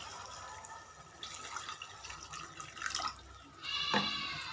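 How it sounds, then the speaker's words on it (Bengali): Water is poured into a mustard fish gravy made with bhola fish, giving faint splashing and trickling pours that come and go, with a stronger pour near the end. "পরিমাণ মতো পানি দিয়ে দিলাম"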